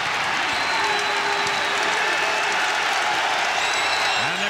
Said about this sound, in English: And the crowd lifts.